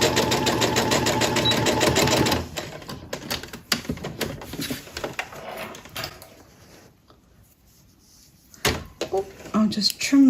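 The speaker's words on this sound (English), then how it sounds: "I'm just going to sew up to that and then do a back stitch." A sewing machine runs steadily in a loud, close mechanical whir for about two seconds, then stops for back stitching, followed by scattered clicks and handling knocks as the seam is finished.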